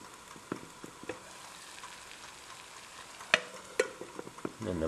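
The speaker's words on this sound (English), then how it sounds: "the boiling is just increasing in intensity as we go along" Water bubbling and hissing in a low, steady roil on an alcohol burner stove, with scattered pops and crackles rising over the simmer.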